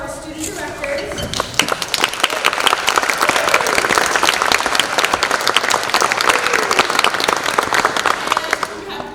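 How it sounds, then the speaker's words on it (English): Applause from a theater audience for the student directors of a stage show, dense steady clapping that swells after a brief spoken lead-in and carries on loud to the end. "We'd love you guys to give another round of applause for our student directors."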